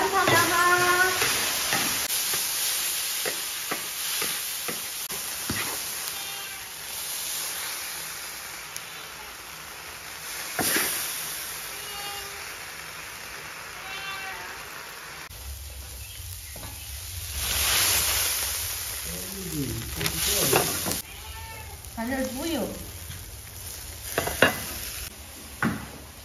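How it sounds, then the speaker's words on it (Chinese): Shredded meat is stir-fried in a wok at home, sizzling and hissing under intermittent scrapes and clinks of the spatula, with people chatting in the background and louder sizzle bursts near the end. "把肉丝丢下去，翻炒两下。"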